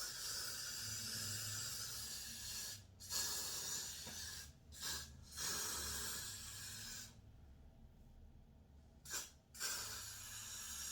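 Hair glue spray from a got2b-type can hisses onto a wig in several bursts, close and loud, with short gaps between sprays.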